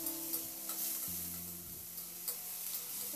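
Onion, ginger and garlic sizzling in a pan while being stirred, a soft steady frying hiss punctuated by scraping spatula strokes and light clinks, close with no speech.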